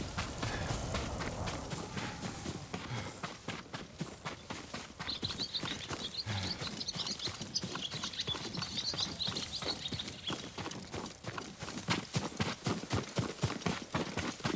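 Horse hooves clop in a steady, rapid rhythm throughout in the samurai game Ghost of Tsushima, moderately close and continuous, over a wash of wind and ambient noise.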